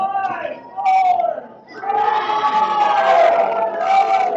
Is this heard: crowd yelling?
yes